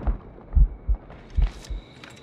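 Poisoned heartbeat effect in the video game Assassin's Creed Rogue: deep, muffled thumps in slow paired beats, close and prominent, with faint game ambience and no speech.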